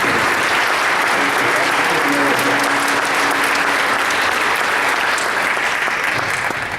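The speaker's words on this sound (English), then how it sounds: "Let's give them another round of applause." Full, steady applause from an audience at a Belleville Board of Education meeting, honouring coding students: dense, loud clapping fills the room without a break, with no voices standing out above it.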